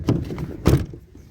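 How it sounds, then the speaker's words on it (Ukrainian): Two short solid thumps about half a second apart, the second louder, an Opel Combo car door being shut close by at a car market, with quiet between. "Дверці."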